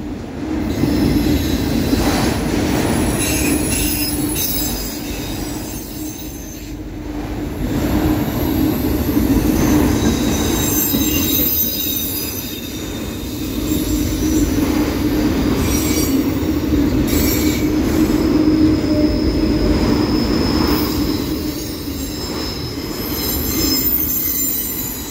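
A long CSX autorack freight train rolls past close by in Homestead, a continuous heavy rumble with wheels squealing in sustained metallic screeches that swell and ease over the long passage.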